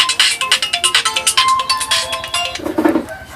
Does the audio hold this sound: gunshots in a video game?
no